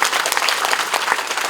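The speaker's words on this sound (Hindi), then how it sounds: "ताली बजाओ जोरदार" Loud, dense audience applause at a satsang gathering in Banda, Shahjahanpur, Uttar Pradesh, with many hands clapping continuously at close range.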